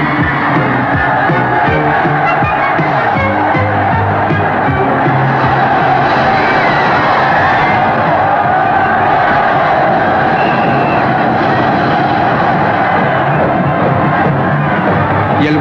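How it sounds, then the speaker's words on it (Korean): Spectators at a 1982 Korea University versus Yonsei ice hockey match roar continuously, a loud, dense wall of crowd shouting and cheering with voices blending throughout, no break or lull. "열광적인 응원단의 함성"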